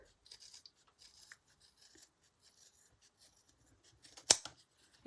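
Scissors trim and round corners with light, crisp snipping and rasping close by, a series of small cuts followed by one sharper, louder snip near the end and no speech.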